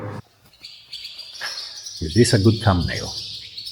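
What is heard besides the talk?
nesting birds chirping in a ruined church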